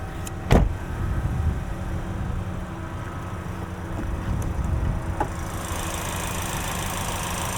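A 2025 Chevrolet Equinox RS with a 1.5-liter turbo engine idles with the hood open, a steady low hum opening with one sharp clunk and a few faint clicks, close and without voices.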